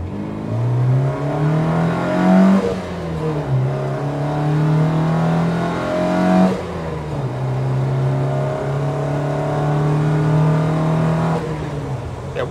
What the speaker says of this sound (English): Let's just take it through the gears again.